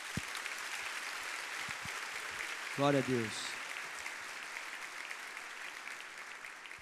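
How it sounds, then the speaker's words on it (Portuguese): A church congregation applauds at a worship service, a continuous wash of many hands clapping at a distance, with a brief spoken voice breaking in midway. "Vamos aplaudir o Senhor, irmãos?"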